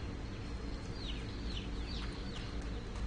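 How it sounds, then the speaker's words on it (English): Chicken clucking on an orchard farm in the video game Fable: a few short, high chirpy calls repeat over a steady bed of ambient game noise, moderately loud and close. "I heard a chicken."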